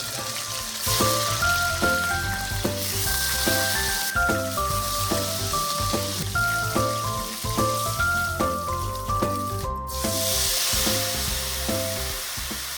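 Pork sizzles in hot oil as the pieces are flipped, a steady crackle running beneath prominent background music.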